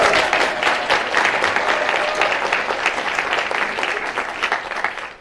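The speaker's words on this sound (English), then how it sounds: "Okay, give them another round of applause." Audience applause fills a White Coat Ceremony hall, steady dense clapping from many hands that holds at full strength for about five seconds before tapering slightly at the end.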